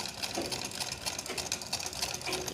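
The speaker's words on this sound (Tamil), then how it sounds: "இன்னொரு தையல் வந்து நான் ஸ்டிச் பண்ணி காமிக்கிறேன்" A sewing machine runs continuously in a fast, even stitching whir, close and fairly loud throughout with no talking.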